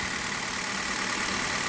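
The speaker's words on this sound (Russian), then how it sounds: "Да, можете послушать работу мотора на холодную." A cold Hyundai Solaris 1.4 engine idles in a steady, even hum with a faint rhythmic ticking, close and unchanging throughout.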